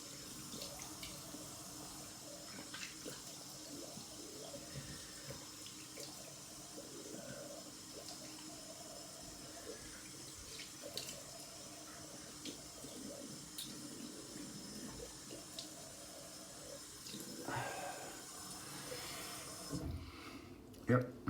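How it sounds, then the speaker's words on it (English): A tap runs cold water continuously for rinsing during a wet shave with budget shaving soap. The flow is a steady, close hiss with a few small clatters, and it cuts off near the end. "So I'll rinse with cold water."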